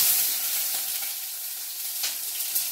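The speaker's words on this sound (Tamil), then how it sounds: "இப்போ வெங்காயம் சேர்த்துக்கிறேன்" Onions frying in a pan for a spinach stir-fry, giving a steady, close hiss of sizzling oil with a few faint stirring scrapes and no voices.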